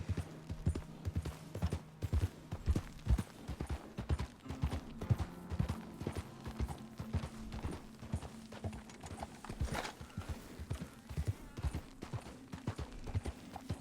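Horse hooves in Red Dead Redemption 2 clopping in a steady, continuous rhythm on the ground, close and clear, with a faint low tonal hum beneath and no talking.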